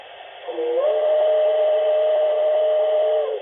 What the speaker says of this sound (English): if you hold it down, you'll get that more elongated tone